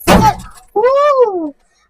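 A snack packet bursts open with a short, sharp pop, followed at once by a drawn-out vocal exclamation.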